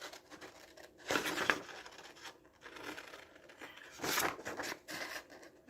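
Scissors cut paper pieces in short, quiet bursts of snipping and rustling, with gaps of near silence between them.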